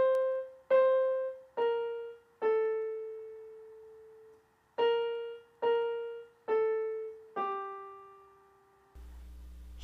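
Right-hand piano melody from part 3 of a Moravian folk song, eight clear, close single notes played slowly in an even rhythm with one held longer, the last note cut off abruptly.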